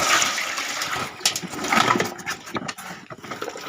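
Water poured from a basin containing leftover ice, a broad splashing gush that rises and falls in waves across a few seconds with no talk over it.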